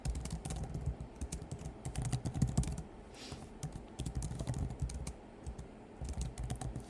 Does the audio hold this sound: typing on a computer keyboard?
yes